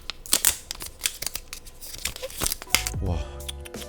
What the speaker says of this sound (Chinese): 好，那我们来撕这个膜咯。